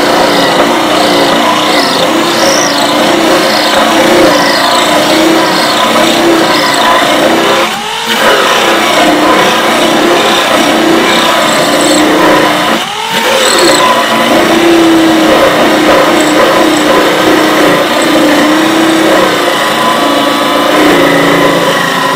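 Electric drill with a hole-cutting bit biting into a wooden box, the motor straining and bogging as the teeth catch, a loud continuous whine that dips briefly twice.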